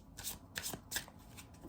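Tarot cards being shuffled by hand, a quick run of crisp riffling bursts repeating several times in close succession, near and fairly quiet with no talking.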